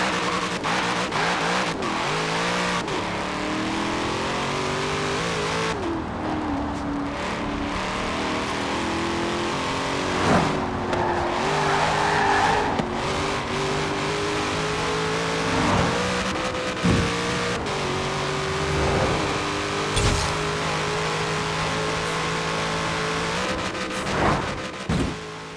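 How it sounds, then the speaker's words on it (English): A C8 Corvette races in Forza, its engine loud and close as it revs up and down through repeated gear changes and accelerations, with occasional tire squeal. "the new video game Forza just come out with the C8 Corvette"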